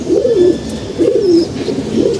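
A pigeon coos three times in slow, evenly spaced phrases, close and clear, with faint bird chirps in the background.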